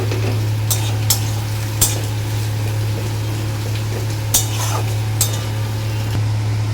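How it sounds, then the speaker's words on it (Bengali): Chopped onion fries gently in a pan for a Bengali kochu shak dish with hilsa head, a soft steady sizzle under a low hum, broken by a few sharp clinks of a utensil against the pan. "তো পেঁয়াজটা ভাজা ভাজা হচ্ছে"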